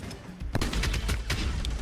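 Rapid gunfire from a first-person shooter shown at a Gamescom 2024 indie showcase, a dense burst of repeated shots with sharp hits around the middle, loud and close throughout.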